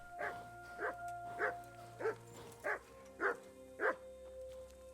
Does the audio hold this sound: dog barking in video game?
yes